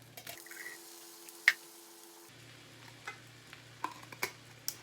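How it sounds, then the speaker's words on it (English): A faint, steady sizzle of vegetables frying in a pan, with baby corn being added, and a few soft clicks and taps of stirring on top. "It's starting to get sizzly now"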